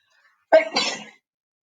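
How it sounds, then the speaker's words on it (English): A single sharp sneeze close to the mic, a quick sharp intake followed by a breathy burst, surrounded by silence. "Oh, I'm going to sneeze."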